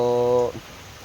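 Rain falls steadily on a farm plot of bitter gourd, eggplant and tomato plants, a soft, even hiss continuing after a voice speaks briefly at the start.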